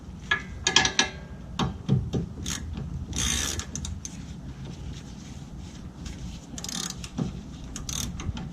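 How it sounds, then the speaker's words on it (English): A socket ratchet working a sway-bar end link bolt on a 2013 Mustang during a Steeda adjustable end link install, giving scattered close clicking and ratcheting bursts of uneven rhythm with pauses between them. "you actually want to set your ratchet to loosen because you're going backwards"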